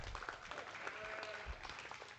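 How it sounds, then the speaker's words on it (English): Applause from the crowd at a junior livestock show's market lamb class for young FFA and 4-H exhibitors, a steady, moderately distant patter of clapping with some mixed voices and arena noise. "Why don't you give them a big round of applause before I tell you how I'm going to line them up."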